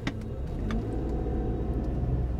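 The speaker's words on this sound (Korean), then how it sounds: "이 가속할 때 소리도 있잖아요" Volkswagen Passat TSI engine accelerating with the air conditioning switched off, a steady mid-low engine drone filling the cabin as it pulls away, with a few faint clicks early on.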